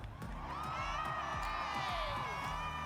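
A crowd at a dance battle competition cheers and whoops loudly and steadily, a dense wall of voices with shouting and rising calls.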